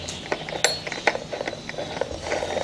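A trimmer line spool is screwed onto the head of a DeWalt DCST922 cordless string trimmer, giving close plastic clicks, ratcheting ticks and light clinks in an irregular rhythm.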